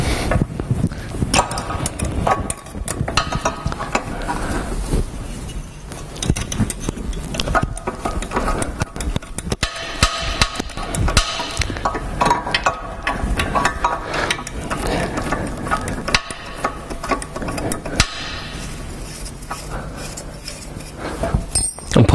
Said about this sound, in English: Undo the bolt.